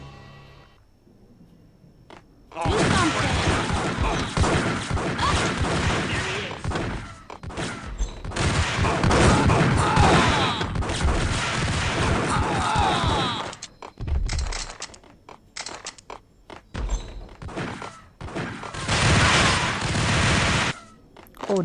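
Sustained bursts of gunfire from the Max Payne video game: a long dense volley of shots and thuds running loud for most of the stretch, dropping off briefly before further bursts resume near the end.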